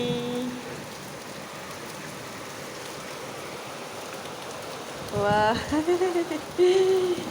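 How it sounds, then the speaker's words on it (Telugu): Steady rain pours down in Bangalore with a constant close hiss, and a voice speaks briefly near the end. "బెంగళూరు ఇప్పుడు వర్షం పడతా ఉంది చూడండి"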